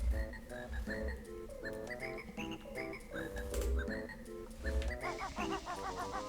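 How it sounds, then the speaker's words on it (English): Game soundtrack from Banjo-Kazooie, a steady tune with frog croaks throughout and whistling melody lines on top, continuous and moderately loud, no voices. "they put frogs in a soundtrack"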